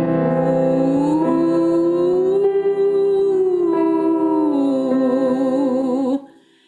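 A solo singing voice holds an oo vowel and slides smoothly up and down between pitches in one continuous glissando, with a slight wavering near the end before it stops abruptly.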